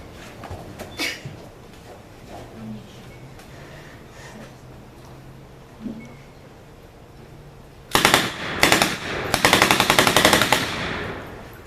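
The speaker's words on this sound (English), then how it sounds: "The BAR, Browning automatic rifle." A Browning automatic rifle (BAR) fires at about 800 rounds per minute: a quiet stretch, then two short loud automatic bursts and a longer rattling one.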